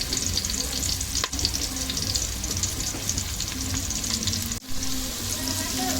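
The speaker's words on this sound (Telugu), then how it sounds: "ఇప్పుడు ఈ ఆయిల్లోనే కట్ చేసిన ఉల్లిగడ్డ వేసుకుంటుందా" Chopped onions and curry leaves frying in hot oil for chicken mandi biryani, a loud dense sizzle with stirring scrapes, close and continuous, with two brief dropouts.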